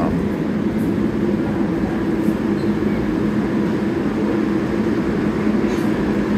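A New York subway train just minutes from Grand Central gives a steady, close, loud rumble with a low hum and a few faint clicks, running on without a break and with no voices heard.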